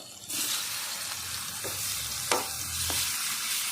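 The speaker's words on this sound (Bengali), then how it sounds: "আমার পেঁয়াজটাকে ভালো করে আমি লাল করে নিচ্ছি" Chopped onion with garlic, green chillies and black cumin fries loudly in a pan, a dense steady sizzle broken by a few sharp spatula scrapes as it is stirred.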